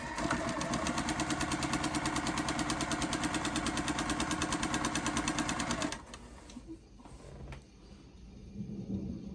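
A home sewing machine runs fast and loud while piecing a quilt, its rapid even stitching clatter steady for about six seconds before it stops, leaving quieter handling noises and a brief whir.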